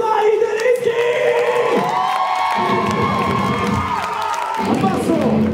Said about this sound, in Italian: applauso per Mister Nicolai Derinchi!